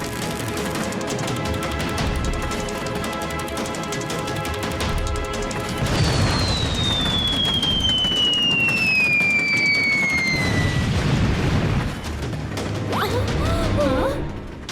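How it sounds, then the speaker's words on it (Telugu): Cartoon cannon fire attack during a train chase, heard as a steady barrage of booms and crashes with a whistling projectile tone sweeping down midway, loud and continuous throughout, with no talk. "అరే వాళ్ళు ఫిరంగి దాడి చేస్తున్నారు."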